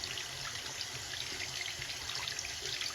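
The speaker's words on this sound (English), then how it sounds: "And then just turn the water on" Water running steadily from a tap into a sink, a soft continuous hiss and splatter, faint and unbroken, with no voices.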